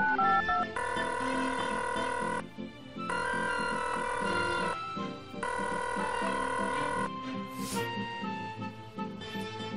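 A telephone rings in three long electronic bursts separated by short gaps, loud and close, followed by a brief higher chirp and quieter tones.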